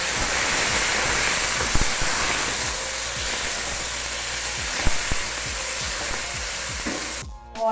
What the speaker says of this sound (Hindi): चिकन को अच्छी तरह ऑयल में फ्राई कर लेना है